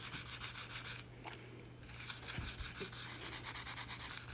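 Hand scrubbing over a scratch on glass, a faint, steady rhythmic rubbing made of quick repeated strokes, heard alone.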